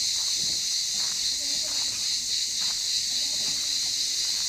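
Crickets chirping outdoors in the mountains near water, a steady high shrill drone throughout with faint rustling and scattered small sounds underneath.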